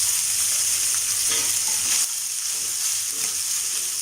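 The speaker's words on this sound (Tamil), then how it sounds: "பெருங்காயம் சேர்த்துட்டு நம்ம வடித்து வச்சுருக்க சாதத்தை சேர்த்துடலாம்." Cooked rice stirred into a frying dal tempering with asafoetida, a loud continuous sizzle and hiss with soft stirring scrapes, close up.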